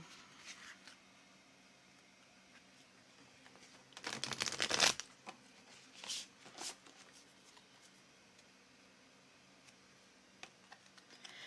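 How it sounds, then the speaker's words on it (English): Tarot cards from The Muse Tarot deck being shuffled and pulled, with a dense burst of riffling around the middle and a few lighter card snaps afterward over quiet room noise. "pulling a card for you"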